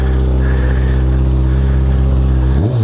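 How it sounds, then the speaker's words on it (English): A Kawasaki ZX6R motorcycle fitted with a Two Brothers race exhaust idles loud and close in a steady, deep, smooth rumble, then the pitch rises sharply as the throttle is blipped at the end. "It does have a Two Brothers race exhaust."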